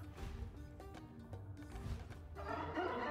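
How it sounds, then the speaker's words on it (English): A rooster in the EcoGnomix city-building video game crows alongside soft clucking fowl, moderately quiet and heard alone with no talking. "The rooster's getting ready to take us out."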